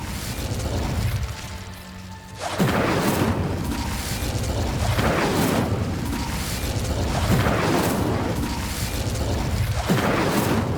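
Repeated bursts of the Incendio fire spell in the Hogwarts Legacy video game, a series of loud whooshing blasts and crashes, roughly one every two seconds, with no speech over them.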